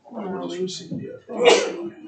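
A sudden sneeze bursts out during a meeting, loud and close, right after ongoing talk, with voices speaking before and after it.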